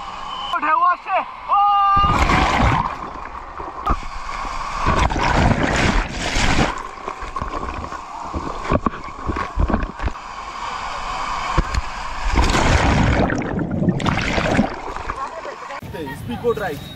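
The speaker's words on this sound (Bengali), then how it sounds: "ঢেউ আসছে" Sea water surges and splashes around a boat at Digha beach, with bursts of rushing spray and sloshing rising and falling over a restless wash, as voices talk and call over the commotion.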